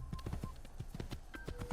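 Horse hooves clip-clopping at a steady trot while riding in Assassin's Creed, a quiet, even rhythm of hoof beats with no talk over it.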